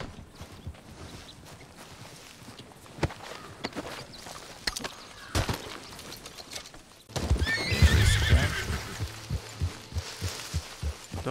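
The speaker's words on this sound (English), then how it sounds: "That's a crazy horse." A horse in the Western game Red Dead Redemption II clops its hooves in uneven steps, then lets out a loud, close whinny, with more hoofbeats and faint ambient noise around it.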